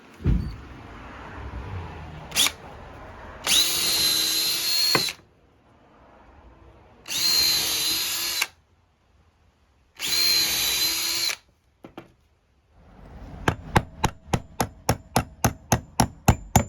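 A power drill bores pilot holes in 70-year-old wooden siding. It comes in several separate whirring bursts of a few seconds each with pauses between, then ends in a fast series of sharp, evenly spaced taps. The sound is close and loud, with no talking.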